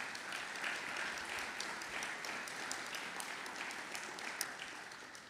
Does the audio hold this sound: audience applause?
yes